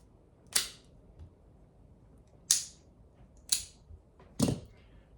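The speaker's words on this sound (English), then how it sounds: "So guillotine straight cut is the way to go." Four sharp, crisp snips from a guillotine cigar cutter slicing straight through the cap of a Punch Classico cigar, spaced irregularly, close and clear in an otherwise quiet room.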